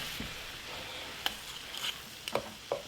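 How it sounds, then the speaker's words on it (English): Shrimp frying in oil in a pan for a stir fry: a steady bright sizzle with a few sharp crackles and pops near the end, close by, with no talking. "We really just want to start off by getting the shrimp browned a little bit, cooked up."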